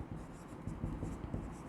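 Pen scratching on paper while writing out an accounting calculation, a steady run of short rhythmic strokes close up, with no talking.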